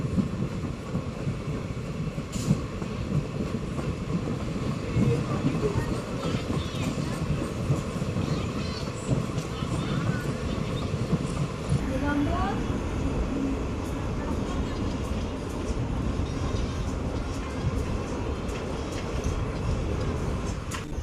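Passenger train 17662 pulls away from Srinivas Nagar station after a one-minute halt, a dense, steady rumble of wheels and carriage noise rolling on without a break.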